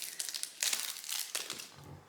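A Japanese snack package is being opened with sharp, close plastic crinkling and crackling in several quick bursts, loud and alone without talk.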